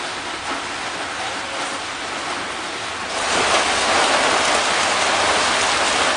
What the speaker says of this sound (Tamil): பொள்ளாச்சி, மேட்டுப்பாளையம் உள்ளிட்ட பகுதிகளிலும் கோடை மழை பெய்தது.